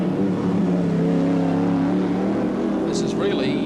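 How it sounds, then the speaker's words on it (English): Touring race cars at Sandown racetrack in a 1988 round of the Australian championship, a continuous loud engine drone heard from inside one car as it comes up on slower cars, with a commentator talking over it. "Coming up on some slower cars here."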